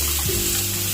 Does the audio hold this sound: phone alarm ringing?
no